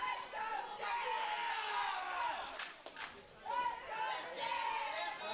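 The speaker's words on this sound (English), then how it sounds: "Crowd cheering on Sierra" A large wrestling crowd at a PTW event roars and yells in support of wrestler Stan Sierra. The sustained, loud mass of voices swells and dips without a break.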